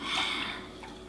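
Pickling brine poured over vegetables for an Armenian beetroot pickle, a steady close liquid splash and trickle that is strongest at the start and then settles into a softer continuous pour, with no talking.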